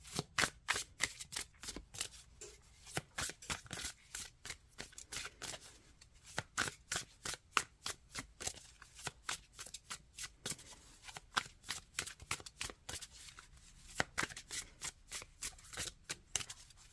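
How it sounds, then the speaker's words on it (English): A deck of tarot cards is riffled and shuffled repeatedly up close, dense bursts of quick papery flutters and snaps in an uneven rhythm with short pauses, no voices. "One more shuffle."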